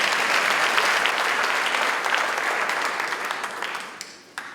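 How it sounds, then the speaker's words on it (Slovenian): An audience at a formal centenary ceremony for a school building in Celje gives sustained applause for Dr. Gaber, a full, even wash of clapping that thins out toward the end, leaving a few last isolated claps. "Prosim za aplavz za gospoda Gabera."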